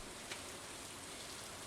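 Steady, quiet rain hiss from a farming video game, an even broadband patter with no talk over it.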